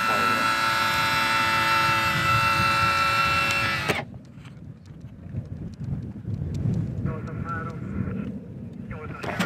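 Jet sustainer engine of a JS3 Rapture 18-metre glider extends and runs, a loud steady whine with dense tonal bands for about four seconds, then cuts away to quieter wind and cockpit rumble.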